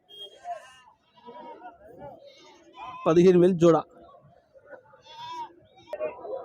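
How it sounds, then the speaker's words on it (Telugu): Rajasthan and Maharashtra goats at a weekly livestock market in Siddipet; a loud close bleat stands out among fainter bleats, with people talking around them. "ఇవన్నీ రాజస్థాన్ మేకలు, మహారాష్ట్ర మేకలు"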